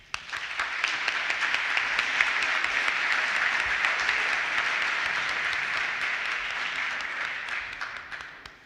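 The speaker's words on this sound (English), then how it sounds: "join me in a round of applause for our candidates" Sustained audience applause at a city council ward candidate forum, a dense even wash of clapping that holds steady for about eight seconds before tapering off at the end.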